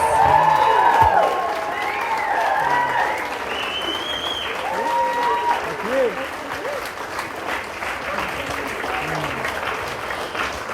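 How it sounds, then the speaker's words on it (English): Audience applause and cheering filling a wedding-style ceremony hall right after the entrance, steady dense clapping with whoops and scattered voices throughout. "What about a huge round of applause for that beautiful entrance?"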